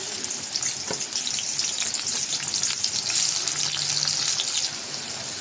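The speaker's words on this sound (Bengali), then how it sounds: "পেঁয়াজটা একটু ভাজা ভাজা হবে" Chopped onions fry in hot oil for a fish dish, giving a steady, fairly loud crackling sizzle throughout with a few faint clicks and no talking.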